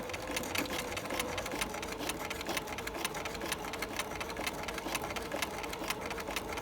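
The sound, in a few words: sewing machine stitching a sleeve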